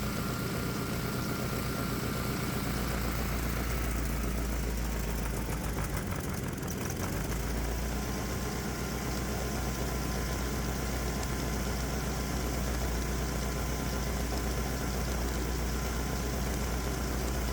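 A 212cc Predator small engine on homemade fuel injection runs continuously, loud and close, with a steady throbbing drone and a slight shift in tone partway through as the mixture is adjusted.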